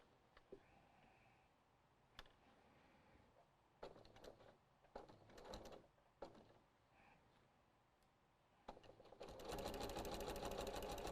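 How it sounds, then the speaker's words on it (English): A sewing machine with a walking foot starts up near the end and runs at a fast, steady stitching whir, after scattered clicks and handling noises. "Okay, over to the sewing machine."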